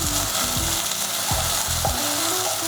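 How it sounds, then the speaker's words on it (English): Diced capsicum sizzles in a hot pan for beef lasagna, a steady close frying hiss broken by a few clunks and scrapes of a utensil stirring. "we'll add in the capsicum, diced capsicum. Let them simmer for"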